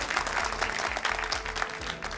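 Studio audience applause during a televised Hindi political debate show, a dense steady wash of clapping filling the whole stretch at moderate loudness.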